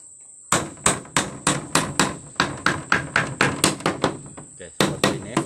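A hammer drives a nail into the middle of a wooden handle with a rapid, even series of a dozen or more ringing metal-on-wood strikes, close and loud, and a thin high whine runs beneath them.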